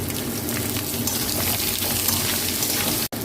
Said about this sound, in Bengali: এবার আমি আলু আর পেঁয়াজ একসঙ্গে ভেজে নেব।